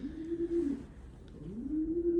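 Pigeons in a breeding loft give soft, throaty coos in two rolling phrases, close by and steady, with no one talking over them.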